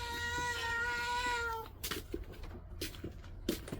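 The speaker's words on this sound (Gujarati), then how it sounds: "મ્યાઉ મ્યાઉ મ્યાઉ મ્યાઉ કરે." A cat gives one long, clear, close meow, followed by softer shuffling and faint taps in a quiet room.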